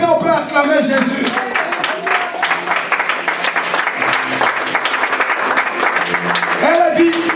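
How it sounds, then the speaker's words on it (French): A church congregation claps and cheers in praise of Jesus, a sustained wave of applause with a voice speaking over it at the start and again near the end. "Est-ce qu'on peut acclamer Jésus?"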